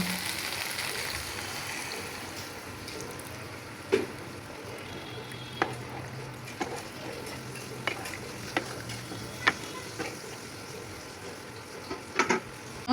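Spices sizzle with okra in hot oil in a pan, a low steady frying hiss broken by sharp scraping clicks of a spoon at irregular intervals, close and alone without speech.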